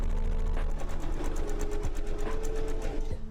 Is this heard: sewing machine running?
yes